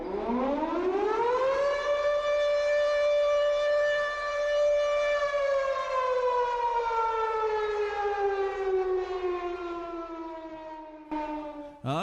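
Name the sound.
siren marking start of podcast spoiler zone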